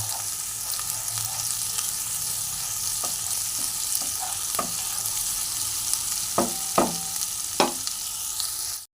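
Ginger sautés in a pan as the base for koi fish curry with cauliflower and potato. A steady close sizzle runs throughout, broken by a few sharp spatula scrapes and taps near the end, with no talking.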